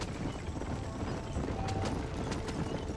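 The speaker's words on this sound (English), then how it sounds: "these horses, they, as soon as I press Y to jump out, they just veer as hard as they can to the left" Horse hooves clip-clop in the video game Red Dead Redemption, a dense, even run of muffled hoofbeats over a loud, steady wash of game noise.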